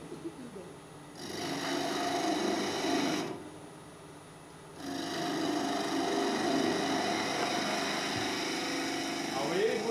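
Ice cream scoop-shaped crochet tool rolled inside a cavity, giving a loud rasping scrape in two sustained bursts separated by a short quieter pause.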